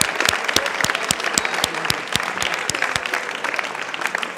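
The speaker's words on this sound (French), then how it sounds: "Un tonnerre d'applaudissements à Mazda," Crowd at a Gran Turismo Sport sim racing awards ceremony gives a steady round of applause, a dense, fairly close clapping with a few sharp individual claps standing out in a regular rhythm.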